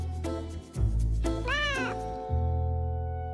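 A cat gives a clear, loud meow with a rising and falling pitch, heard alone against a low steady background hum.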